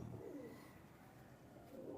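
Imported Teddy pigeons cooing softly, a faint low throaty coo at the start and again near the end over a quiet, murmuring background.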